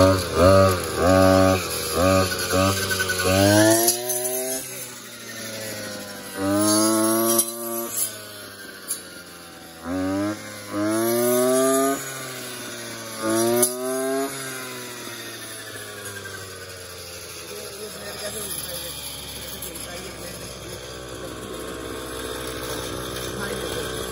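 A kick-started engine on a crop cutter machine in a wheat field runs loud and buzzing, revving up and down in bursts before settling into a steady drone, with people talking over it.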